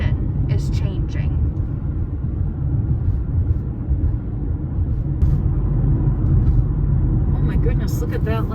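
A car drives uphill on a country road near Holy Hill in Wisconsin, giving a steady, loud low rumble of engine and tyres throughout, with a voice talking over it.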